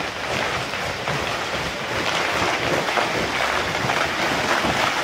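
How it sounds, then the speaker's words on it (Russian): Heavy hail pounding down during a May storm in Novosibirsk, a dense, continuous roar of ice striking surfaces and a car, steady and loud throughout with no pauses. "Водопад из града, ё-моё!"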